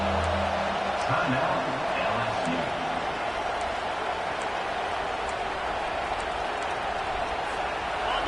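A college football stadium crowd at LSU versus Texas roars in a steady, swelling wall of cheering for the defense on third down, with a broadcast voice talking over the noise early on.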